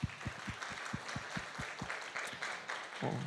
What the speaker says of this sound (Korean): 우리 TM들에게 격려의 박수 보내겠습니다.